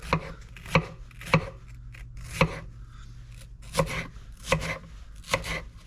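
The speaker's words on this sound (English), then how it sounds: "grab those few pieces, bunch them all together, and you cut that up right there" A knife chops a bunched pile of vegetable pieces on a cutting board during home meal prep, giving eight sharp, close, evenly spaced strikes with brief quiet gaps between them.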